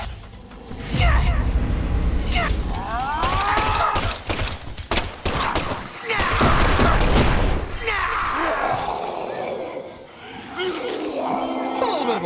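Gunfire in the video game Deadly Premonition 2, a rapid string of sharp shots and thuds mixed with mechanical clanks and game voices, loud and close throughout.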